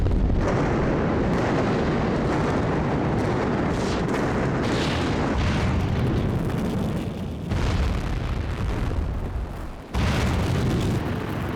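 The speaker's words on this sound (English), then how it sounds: "The machine has the button which triggers the detonation." Explosive charges detonate to demolish a large 600,000 sq ft building, a loud, sustained roar of booms and rumbling collapse that rolls on for over ten seconds, with a brief dip near the end before the rumble resumes.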